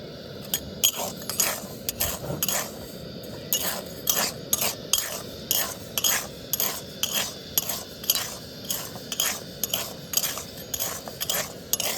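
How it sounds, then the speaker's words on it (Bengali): Salt heated in a pan for making puffed rice is stirred with a metal utensil: close, steady scraping clinks repeat about once a second over a soft gritty rasp, with no voices. "এই লবণটা গরম করার মধ্যে দিয়ে দেব খুব সুন্দরভাবে একদম গরম করে নিতে হবে"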